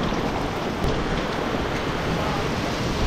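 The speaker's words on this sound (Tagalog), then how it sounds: "ang bagsik ng ito, puro ulan." Heavy, steady rain from the tail of Typhoon Gaemi pours down in Taiwan, a dense, unbroken roar of downpour striking surfaces close by, loud throughout with no voices.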